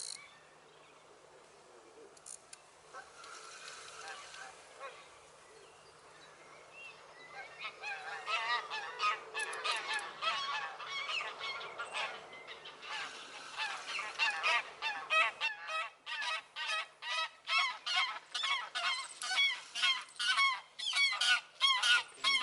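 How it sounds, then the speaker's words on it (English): Geese honking repeatedly, growing louder and denser as the flock nears, with rapid overlapping calls toward the end and a faint insect-like buzz beneath. "Those geese drive you mad everywhere you go"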